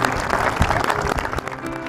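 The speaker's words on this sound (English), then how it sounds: "like receiving applause from your colleagues when you aren't sure why" Colleagues break into dense, continuous applause, a loud wash of many hands clapping together, sustained and fairly close throughout.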